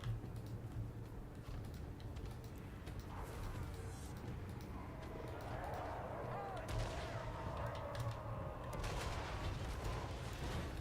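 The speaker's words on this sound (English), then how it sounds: "Lead Belcher's firing in onto the polearms mob." Lead Belcher cannons firing in a Warhammer video game battle, a run of distant booming shots with rumbling tails amid the ongoing din of combat.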